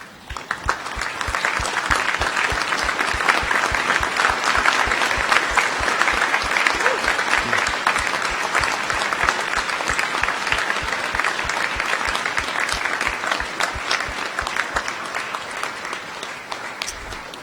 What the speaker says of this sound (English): express your gratitude for a true team effort by a round of applause